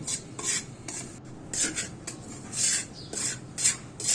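Salted dried kachki fish balachao mixture with chili powder is stirred in a pan, with a steady series of soft scraping, rubbing strokes in a repeating rhythm, close and alone.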